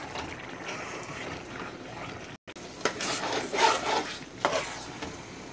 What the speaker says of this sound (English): Okay, then you mix everything together.